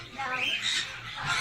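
A boarding pet bird in a pet store gives loud, harsh squawks that run almost continuously for the moment, close and fairly strong.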